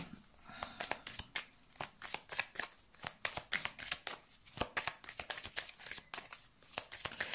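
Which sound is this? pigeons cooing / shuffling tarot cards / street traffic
shuffling tarot cards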